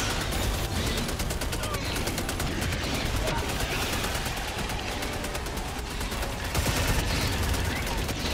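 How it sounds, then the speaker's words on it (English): A Gatling sentry turret firing in Helldivers 2: a continuous loud fusillade of rapid gunfire that keeps going without a break, with chaotic battle noise and voices underneath. "That Gatling sentry, holy shit, it scared the shit out of me and Merc."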